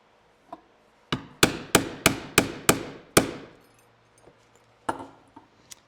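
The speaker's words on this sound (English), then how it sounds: "that's a BHT 1 inch punch" Seven sharp hammer strikes drive a 1 inch BHT leather bag punch through a narrow leather strap, evenly spaced and close, followed by a few lighter taps after a pause.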